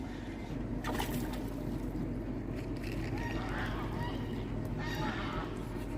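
Geese honk by the river, scattered calls rising over a steady low rumble of a boat and moving water, with faint voices in the background.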